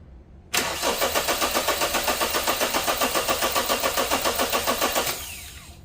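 A car engine cranks with a steady rhythmic chug for about four and a half seconds during a starting system voltage drop test, then catches and settles, loud and close with no talking.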